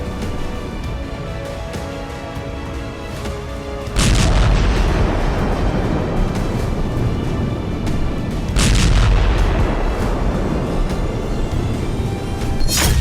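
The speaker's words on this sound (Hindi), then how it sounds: "एम्यूनिशन डिपो में विस्फोट के बाद बारूद से सना ऐसा मशरूम क्लाउड उठा" An ammunition depot blows up, heard as a sudden heavy boom followed by a long rumbling roar, then a second strong blast with rolling, crackling thunder, loud and distant-sounding, with no voices.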